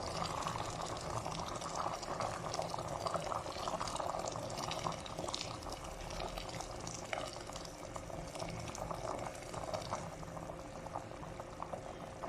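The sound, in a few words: water poured into pot while cooking oxtail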